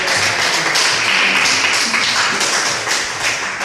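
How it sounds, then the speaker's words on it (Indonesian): Classroom applause from a group of students, dense, steady clapping close by that carries on for several seconds without a break. "Beri aplaus dulu."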